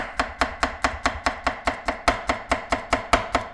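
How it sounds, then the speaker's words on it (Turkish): A knife slicing a banana taps a cutting board in a steady, even rhythm, about fifteen crisp close chops with no talking. "Muzu ince ince doğruyorum."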